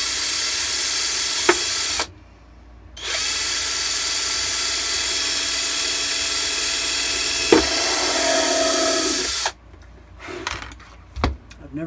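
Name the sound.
power drill drilling armor part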